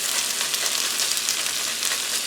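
Zucchini carrot fritters fry in oil in a pan with a steady, even sizzle that carries on alone and without a break.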